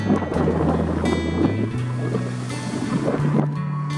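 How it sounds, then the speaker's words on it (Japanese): Waves break at the shoreline of the Sea of Japan under a strong onshore wind, with a continuous rushing wash and heavy wind buffeting against the microphone, loud and close. "ショアブレイクです。"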